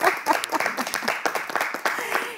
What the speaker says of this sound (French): Ça s'applaudit par contre